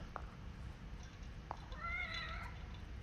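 In The Evil Within, a cat gives a soft, drawn-out meow that rises and falls, faint against a steady low game ambience broken by a couple of small ticks.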